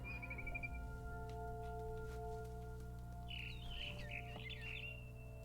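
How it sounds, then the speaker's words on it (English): A barn swallow chirps inside the video game What Remains of Edith Finch, with a brief call at the start and a busier burst of chirps later, faint against a steady low game ambience. "Then I heard chirping outside my window. It was a barn swallow going back to her nest."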